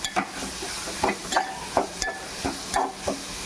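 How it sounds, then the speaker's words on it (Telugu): Ginger, shallot and coconut paste fries in a pan, a soft steady sizzle punctuated by regular scraping stirs of a spoon roughly every half second, close and without speech. "ఇది కూడా పచ్చివాసన పోయేదాకా ఫ్రై చేసుకుందాం."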